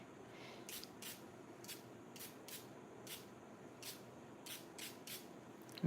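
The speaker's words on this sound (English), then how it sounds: "I'm gonna spritz the whole surface pretty wet" A spray bottle spritzes in a series of short, sharp hissing bursts, about a dozen in quick irregular succession, fairly close and otherwise quiet.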